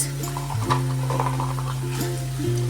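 Carrots and beans are tossed into a pan of oil with ginger, producing a continuous sizzle with stirring scrapes, close and steady, over background music.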